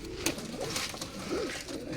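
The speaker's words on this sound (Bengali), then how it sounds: "চলো ছেড়ে দিই দুটো পায়রা" Domestic pigeons of an old fancy line coo close by as a pair is let go, soft throaty calls rising and falling over a few sharp rustling flutters.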